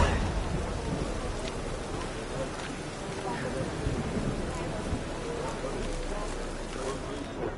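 Steady rain falls in the video game The Witcher 3, a dense, even hiss that holds at the same level throughout, with possible faint rumbles of thunder in the background.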